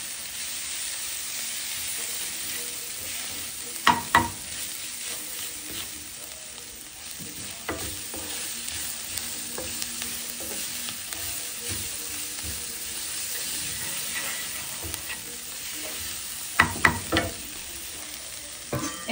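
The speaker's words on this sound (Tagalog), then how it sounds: "Ilagay natin itong sibuyas hanggang sa lumambot." Onions softening in a pan for collard greens with ham hocks give a steady soft sizzle throughout, with a couple of sharp clatters of stirring utensils against the pan.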